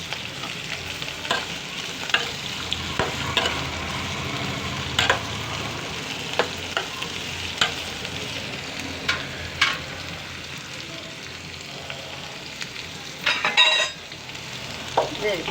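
Bottle gourd stew ingredients sizzle steadily in a pan, with regular scraping strokes of stirring. Occasional louder clatters sound close by, and no one talks.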